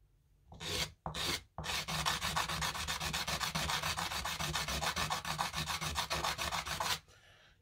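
Amber being sanded by hand on waterproof sandpaper while making pendants: a steady, close, rasping rub of quick back-and-forth strokes lasting several seconds after a couple of short initial scrapes.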